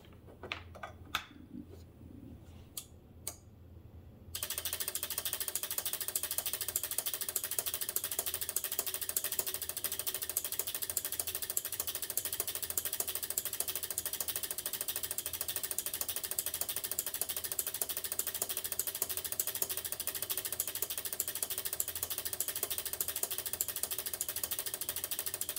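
Relays on the sequencer card of a homebuilt relay computer chatter in turbo mode, a dense, rapid, continuous clicking that starts abruptly after a few sparse clicks and holds steady and loud to the end.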